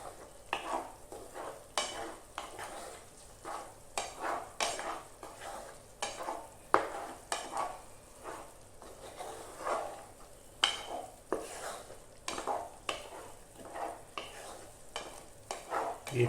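Chicken frying with grated coconut in a pan, stirred steadily so that rhythmic scraping strokes repeat over a soft, continuous sizzle, close and fairly quiet, with no talking.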